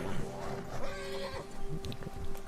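A horse in the video game Red Dead Redemption 2 whinnies and snorts nearby, with a stretched, wavering neigh and some soft hoof shuffling, fairly clear against a low background.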